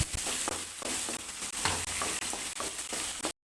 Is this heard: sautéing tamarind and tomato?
yes